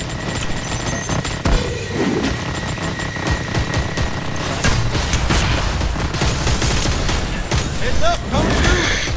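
Rapid bursts of gunfire from a skill shot in the online shooter Shards of War, loud and dense with mechanical clatter, continuing for several seconds amid game effects.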